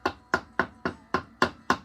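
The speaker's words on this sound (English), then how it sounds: "Use the round part of the peen. Just give it a tap." Seven sharp metallic taps from the round peen of a small ball-peen hammer, evenly spaced about a third of a second apart, close and clear with no talking.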